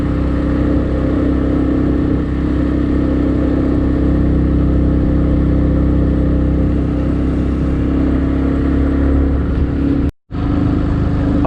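A motorcycle engine drones loudly and steadily as it strains uphill on a mountain road on the Karakoram Highway in Pakistan, with rushing wind noise and a brief dropout near the end.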